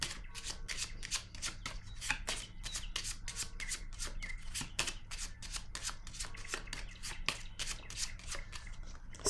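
Tarot cards riffled and shuffled by hand in a quiet room, a long run of quick, crisp flutters and soft slaps repeating at a steady pace, close and fairly faint.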